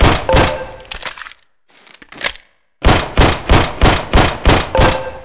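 Pistol fire at a shooting range target in the Black Mesa video game: a few sharp shots, a short quiet gap, then a steady rapid string of about eight loud, evenly spaced cracks with no talk.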